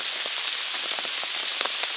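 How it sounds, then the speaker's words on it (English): Steady, hard rain hisses on surfaces close by at night on a long-distance hike in the 100 Mile Wilderness near Rainbow Mountain, with scattered louder drops pattering through the constant wash; no voices. "Started raining harder."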